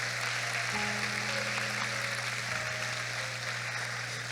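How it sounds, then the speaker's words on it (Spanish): A congregation at a youth church conference gives a sustained, moderately faint round of applause over a steady electrical hum, with no talking. "Aplauso para Jesús."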